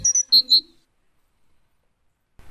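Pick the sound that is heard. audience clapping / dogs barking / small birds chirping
small birds chirping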